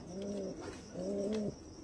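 Andhra pigeons give two soft, close coos in a row, each a low, throaty, wavering call, with nothing else heard.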